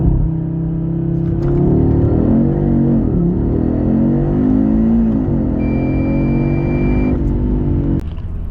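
A 2025 Audi RS3 Limousine with its 400 hp 2.5 TFSI five-cylinder and four-wheel drive accelerating hard, a loud close engine roar climbing in pitch through several gear changes before easing off at the end.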